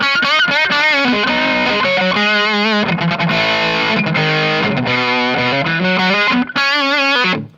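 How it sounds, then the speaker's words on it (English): An electric guitar played through an Audiostorm Grand Classic high-gain distortion pedal, all controls at 12 o'clock, thick and saturated, strumming chords and riffs loudly before cutting off abruptly at the end. "that is quite a moderate high gain distortion"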